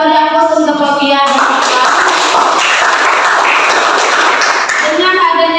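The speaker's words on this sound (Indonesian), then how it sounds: "kita beri aplaus untuk Robiah" A classroom audience applauds for Robiah: a dense burst of clapping for about four seconds, with a voice talking just before and resuming as the applause fades.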